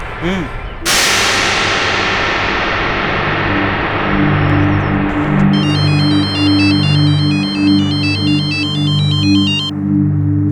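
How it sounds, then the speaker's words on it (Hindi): A telephone ringtone, a repeating electronic melodic pattern, sounds in a dramatic indoor scene after a sharp clang, with a low sustained music bed underneath and no talking. "अम्मी वो मीनाज के अनाथ आश्रम से फोन आया था, उनको आपसे बात करनी है अभी।"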